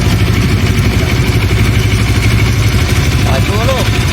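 A SYM 250i EVO motorcycle engine idles steadily at dawn before a ride, a loud continuous low rumble with a brief voice near the end.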